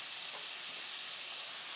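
Steady, close sizzling of meat frying in a hot pan, a continuous bright crackling hiss with no voices.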